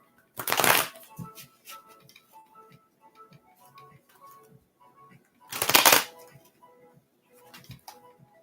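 Tarot cards are shuffled twice in quick riffling bursts, separated by soft clicks and light handling of the deck, close up.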